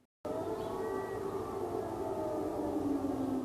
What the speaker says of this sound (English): Air raid sirens sounding again Wednesday morning in Kiev